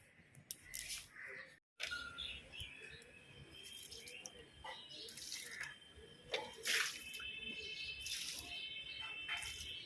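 Water pours onto potted plants in small splashing bursts, moderately close, against a faint outdoor backdrop of crickets and occasional birds, with a brief dropout early on.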